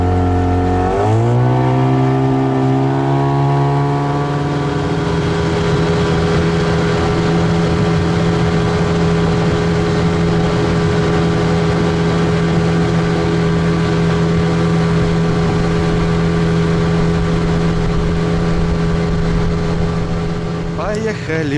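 A motorboat engine on a small northern river starts up and then holds a loud, steady drone close by for about twenty seconds, with a brief rev near the start.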